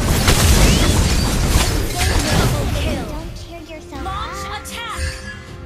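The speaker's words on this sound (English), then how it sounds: "Our turret has been destroyed." A loud booming blast as a turret is destroyed in a video game, with dense rumbling noise for about three seconds, then fading into softer game sounds and tonal effects.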